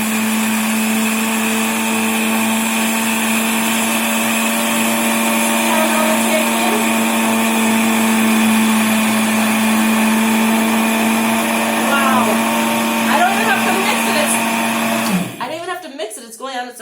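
A Biolomix blender with a dry jar grinds flour on its highest setting, a loud steady high-pitched whine that holds for about fifteen seconds before cutting off, with a voice speaking faintly underneath.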